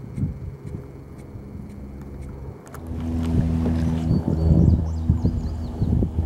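A kayak paddled against the current on the Tennessee River on a windy day: a steady low rumble of wind and moving water that grows louder partway through, with no talking.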